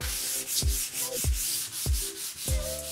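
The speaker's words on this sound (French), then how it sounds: "Le ponçage est terminé, mais comme je le fais avec un grain 120, c'est quand même un abrasif de dégrossissage." Hand sanding of a wooden door with 120-grit abrasive: steady back-and-forth rasping strokes in a regular rhythm, close and loud, with no talking.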